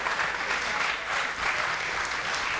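Crowd at a Dana White's Contender Series Brasil fight event applauding unbeaten fighter Marina Rodrigues: a dense, loud, continuous roll of clapping that swells and ebbs slightly over a couple of seconds.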